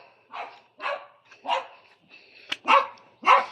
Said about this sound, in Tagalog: Nagkakahula na naman yung mga aso.